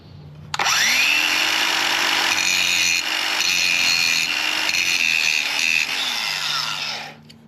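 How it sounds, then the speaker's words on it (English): An angle grinder cuts off the two heads of a chain rivet while converting an Indian Challenger motorcycle to chain drive. The whine is loud and steady, close up and alone, holding for about six seconds before spinning down. "you're going to grind off the two heads of this rivet"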